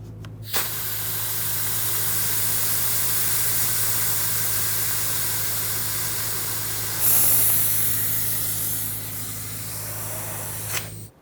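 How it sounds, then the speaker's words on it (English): A pump runs with a steady, loud hissing whoosh and a low hum as brake fluid is pulled from the master cylinder reservoir of a 2000-2005 Ford Excursion, surging briefly near the end before stopping. "you can do that by using either a vacuum pump with a little reservoir on it or a fluid transfer pump"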